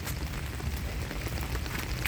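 Steady rain falls outside with a dense, even hiss of drops on surfaces, constant and moderately loud with no talk.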